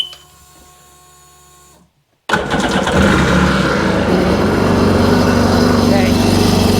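A 2001 Sea-Doo RXDI jet ski engine, freshly rebuilt, cranks and catches after a short silence, then settles into a loud, steady, rumbling idle that runs on alone.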